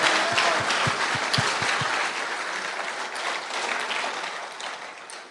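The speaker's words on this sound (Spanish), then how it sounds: "démosle un aplauso al que todo lo puede" Audience applause fills a Christian conference hall, dense and steady for about five seconds and slowly easing, with a few distinct claps standing out early and no talk over it.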